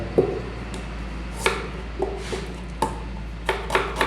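Onions being chopped finely on a board for chicken masala, a series of sharp knife taps spaced irregularly, close and fairly quiet over a low steady hum, with no talking.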